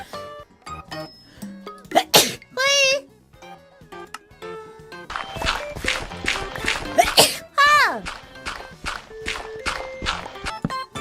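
During a Minecraft live stream, a woman's sneezes burst out among short vocal sounds and sighs, sharp and close to the microphone, a few in quick succession with quieter pauses between them.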